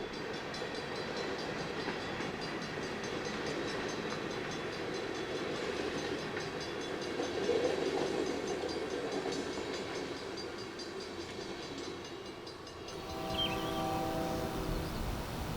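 A Missouri & Northern Arkansas Railroad train rolls past on the former Katy Clinton Branch in a steady, continuous rumble of wheels and cars, close and fairly loud throughout, easing slightly near the end.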